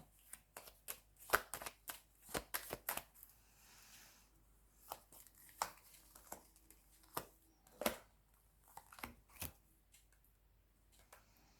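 Tarot cards handled and put away, a run of soft, close slaps, flicks and shuffling rustles in irregular bursts, quiet throughout with no voice.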